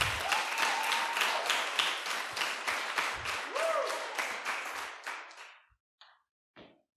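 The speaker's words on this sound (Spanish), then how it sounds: "si le vas a aplaudir al rey, apláudelo fuerte" A church congregation applauds loudly and steadily for the king, dense clapping with some voices rising over it, then fading into a few scattered final claps.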